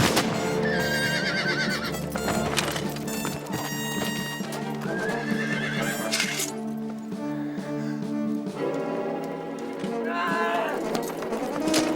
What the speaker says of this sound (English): Where's young Robert with my horse